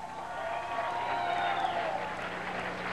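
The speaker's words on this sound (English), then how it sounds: "Give them a round of applause, y'all." Crowd at a 1992 DMC DJ championship applauds and cheers for the winners, a fairly faint, diffuse wash of clapping and hollering heard from a distance in a large venue.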